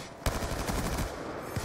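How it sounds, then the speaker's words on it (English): MSMC submachine gun fire in a first-person shooter, a sustained close burst of rapid automatic shots packed together without a break, loud and alone. "Oh, that guy sprayed me down with MSMC."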